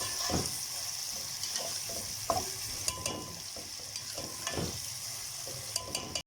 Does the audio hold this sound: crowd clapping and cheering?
no